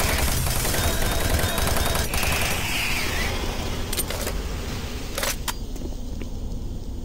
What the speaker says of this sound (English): the machine gun is effective, but it just feels kind of crappy